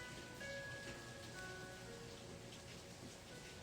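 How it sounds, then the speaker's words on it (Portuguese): Light rain falls in a soft, steady wash outside a home, faint and continuous, with a few thin tonal hums running underneath. "Aqui tá uma chuvinha boa."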